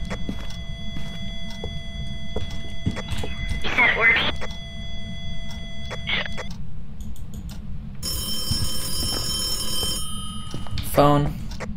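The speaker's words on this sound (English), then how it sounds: "Phone." In the Phasmophobia video game a phone rings in short electronic bursts under steady background hum, while players talk.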